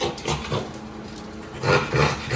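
A puppy offered for sale, a full-tail boy from a litter, gives short whimpering, yelping sounds in bursts, with louder cries near the end over a steady background hum.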